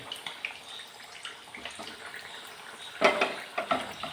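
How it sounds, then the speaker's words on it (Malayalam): Oil crackles and spits steadily in a pan as pieces of chicken 65 fry, with a louder burst of sizzling near the end. "ഇത് കുറച്ചായിട്ട് നമുക്ക് വറുത്തെടുക്കാം."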